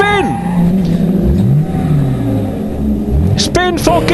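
A Porsche race car spins at Silverstone's Copse Corner in a BRSCC race, with loud engine revs sweeping up and down as it rotates, close and dominant. Other cars pass nearby.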